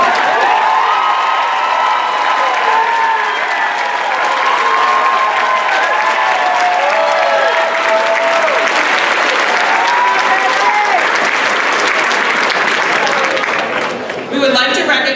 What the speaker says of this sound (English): asking them to stand to be recognized with a round of applause